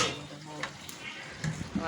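Fenugreek seeds fry in hot oil for a mango pickle, a soft steady sizzle with faint stirring and a couple of small clinks near the end, close and quiet.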